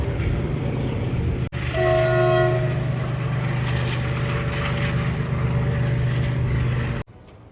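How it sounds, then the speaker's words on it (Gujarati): A train rumbles steadily past while its horn blows a long, loud, sustained note, the roar continuing until it cuts off abruptly. "ટ્રેન આવી"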